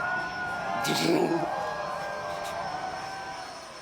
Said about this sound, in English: That's an airplane, folks,